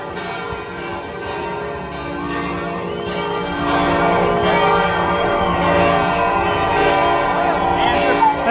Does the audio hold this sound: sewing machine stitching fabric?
no